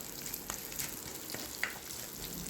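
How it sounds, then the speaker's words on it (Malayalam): Cooked vegetables hit hot oil tempered with mustard seeds, fenugreek, cumin and dried red chillies for a dal-free sambar, a steady close sizzle with a few faint pops and stirring clicks throughout. "ആവശ്യത്തിനുള്ള കടുക്, ഉലുവ, ചെറിയ ജീരകം, ഉണക്കമുളക് ഇതെല്ലാം കൂടി ഇട്ട് നല്ല മൂപ്പിച്ചിട്ട്"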